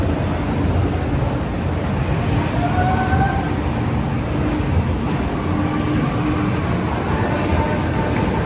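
A toy train ride at Wonderla amusement park in Hyderabad rumbles continuously, a loud steady clatter and drone with faint tonal whines drifting through, no voices.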